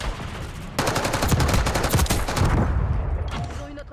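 Rapid automatic gunfire from the video game Call of Duty, a loud sustained burst of close shots that continues almost to the end with no talking.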